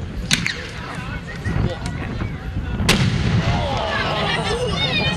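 A 38 mm firework shell fires with a sharp launch crack and whistling yellow glitter tail, then bursts into a loud white flash bang, followed by crackling outdoors at a pyrotechnics fair.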